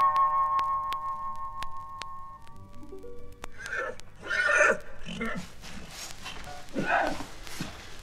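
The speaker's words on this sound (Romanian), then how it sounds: "intră în grajdurile împărătești și îți alege cal pe măsura îndrăznelii tale" A horse whinnies in a Romanian audio fairy tale, entering after a passage of tonal music fades, with a few shaky neighs and snorts, fairly close over a dim background.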